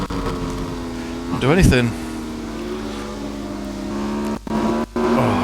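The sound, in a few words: motorcycle engine in Ride 5 video game, riding in rain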